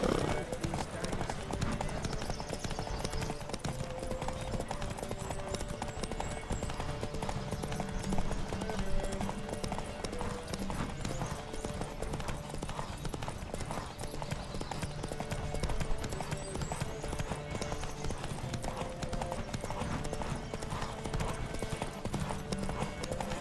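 A horse gallops in a race in The Witcher 3, a fast, continuous clip-clop of hooves heard close and loud alongside game sounds and voices.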